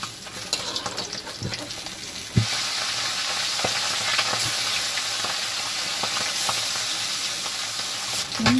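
Tengra fish frying in hot oil give a steady, loud sizzle with a few sharp pops and stirring clinks, close up and uninterrupted by talk.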